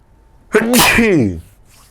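A single loud, close sneeze bursts out in a quiet room during a chemistry paper-solution lecture, rising sharply and then trailing off into silence.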